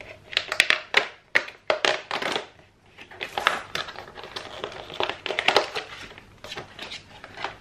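A cardboard advent calendar is torn and pried open by hand, with a close, uneven run of ripping, crinkling and cracking bursts that continues throughout.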